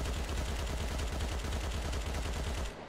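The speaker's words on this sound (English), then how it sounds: "I'm gonna, like, hold down fire though, just so you guys see what the recoil is without tap firing." Sustained full-auto fire from an AP-15 rifle in the Crossfire X video game on Xbox Series X, a dense unbroken stream of rapid shots that continues nearly three seconds and then cuts off abruptly, with no voices over it.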